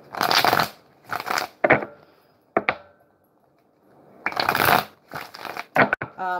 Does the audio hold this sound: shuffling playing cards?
yes